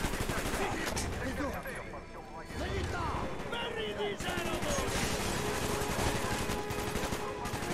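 AK rifle gunfire in Call of Duty Black Ops, rapid bursts of shots with crashes, loud through most of the stretch with a brief lull, and someone talking over the action.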